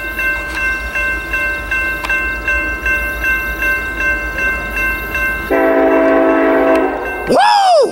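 Rhythmic clatter of a passing freight train at Cajon Pass, then a loud, sustained train horn blast that cuts off, followed by a sweeping siren-like wail.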